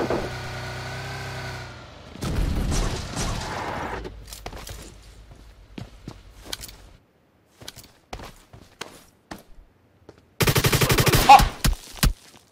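Gunfire in a battle royale video game: close rapid bursts and single shots, scattered footsteps and a distant engine between them, ending in a loud dense volley.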